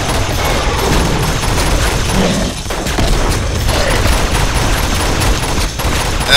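Continuous gunfire in the video game Uncharted 2: Among Thieves, a dense, loud barrage of shots and booms filling the whole stretch with no pauses and no voices.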